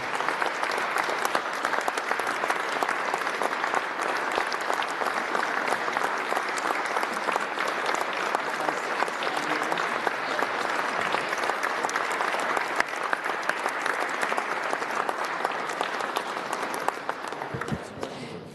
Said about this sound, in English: Members, if we could please rise and give them a round of applause for their work and their presence today